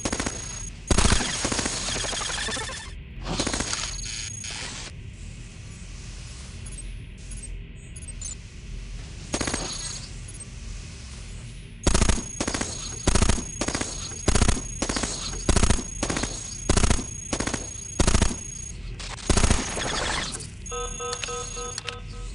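Bursts of gunfire from the robot roguelike Cogmind, loud clustered volleys and rapid machine-gun runs repeating at irregular intervals, with quieter stretches of game noise between.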